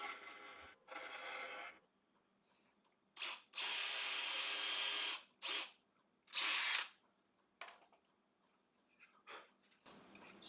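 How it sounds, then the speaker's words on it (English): A power drill bores into wood with a large 2¼-inch forstner bit for woodturning, in short bursts of whirring cutting separated by quiet pauses, one longer steady run in the middle. "So I just drilled down an extra little bit of good wood, drilled an 8mm hole."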